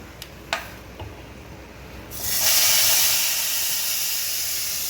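A few light clicks, then a sudden loud hiss of a hot ghee tempering hitting a pot of Gujarati kadhi that stays strong and slowly eases off, close by.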